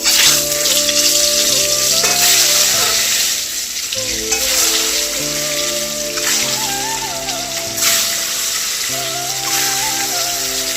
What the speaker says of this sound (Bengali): এবার আমি এক এক করে ডিমগুলো ছেড়ে দেবো